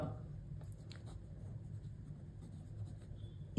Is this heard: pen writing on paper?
yes